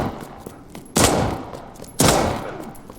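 Two heavy pistol shots in the survival horror shooter Resident Evil Re:Verse, each a sharp, loud crack about a second apart that rings out and decays, with faint softer game sounds between them.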